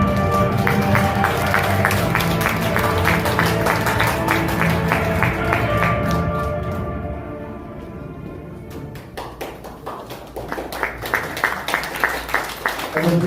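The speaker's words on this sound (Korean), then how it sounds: "아낌없는 박수와 격려 그리고" Audience applause at a Korean YouTube association founding ceremony and supporters' day, steady dense clapping for several seconds that thins out and then returns as scattered, closer claps.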